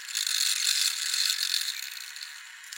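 Two small nuts on each side of a lid are tightened to lock it onto a machine holding a semolina mixture, giving a close, steady metallic rattling and ratcheting with only high-pitched content.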